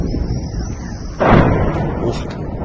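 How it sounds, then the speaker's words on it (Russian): An outgoing artillery shot followed within seconds by an incoming impact in Donetsk, a distant boom then a louder burst heard outdoors over steady background noise. "звук исходящего выстрела, и практически сразу, через 1-2 секунды, звук прилета"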